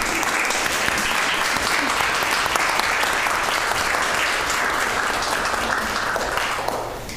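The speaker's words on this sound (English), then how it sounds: "Now you may clap" Church congregation clapping after a prayer at a Fifth Sunday of Lent service, steady dense applause from a large group, loud and sustained throughout before tapering at the very end.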